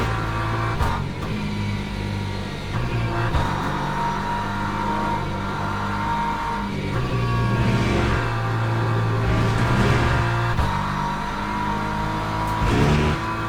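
A race car in Le Mans Ultimate runs through the Porsche curves, its engine loud and continuous, revving up and dropping through gear changes and lifts with no talk over it.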